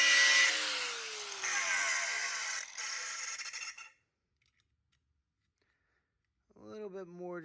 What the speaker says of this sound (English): So we'll grind this nipple down a little bit on both sides to get to fit that.